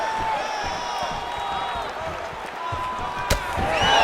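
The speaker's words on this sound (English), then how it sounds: "they can take in the applause because they deserve it after that grappling exchange" Crowd applause and cheering in UFC 5 as the fighters regain their feet after a grappling exchange, a steady arena roar under commentary with a sharp thud near the end.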